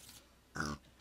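A single short, close pig grunt from the Minecraft video game rises suddenly out of a quiet background and fades within a fraction of a second.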